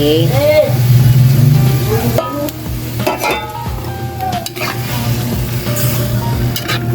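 Marinated meat with garlic is stirred and sizzles loudly in a hot pan, with scraping utensil strokes and clinks over a steady frying hiss, and a voice speaking intermittently throughout.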